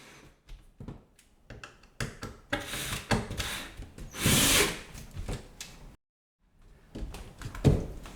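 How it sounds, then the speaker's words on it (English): A power drill drives screws into kitchen cabinets during a kitchen remodel: repeated whirring bursts of varying length with scraping and handling noises in between, close by, and a brief silent gap near the end. "Alright, I'll install some screws."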